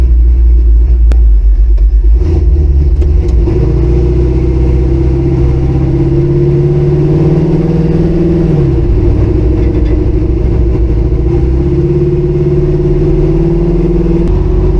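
A rusty old station wagon with a failing fuel pump drones loudly from inside, a continuous low engine rumble whose pitch rises and dips unevenly as the motor struggles.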